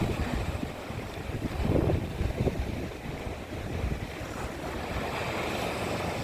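Steady cold wind buffets the microphone as Black Sea surf rolls and washes on the Odesa shore in January, a continuous rushing roar with no voices.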